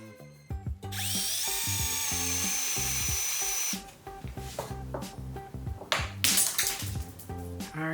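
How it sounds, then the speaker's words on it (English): A power drill bores holes into carved wood for a floral perfume holder: a loud whining run of a few seconds, then shorter bursts and scraping contact against the wood, with music playing underneath. "Now we can drill the holes."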